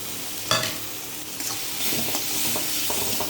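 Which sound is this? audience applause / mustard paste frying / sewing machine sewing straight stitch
mustard paste frying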